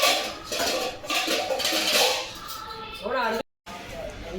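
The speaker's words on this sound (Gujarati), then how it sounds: "જો હવે મેં વાસણને બધું ગોઠવી લીધું છે" Dishes, pots and cutlery clink and clatter as they are set out and arranged by hand, close and busy under ongoing talk, ending with a short pause.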